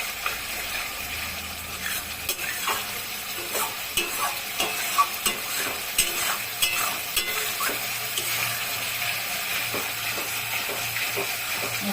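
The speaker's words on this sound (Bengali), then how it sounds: "এইভাবে আমি এখন মশলাটা কষাবো" Spice paste for a pool barb (puti) fish curry sautés in a pan, a steady sizzling hiss broken by regular stirring scrapes and taps of the spoon, close and fairly loud.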